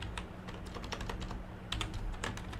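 Quick, continuous clatter of computer keyboard keys as PHP code is typed, with fast irregular keystrokes over a quiet low background hum and no talking.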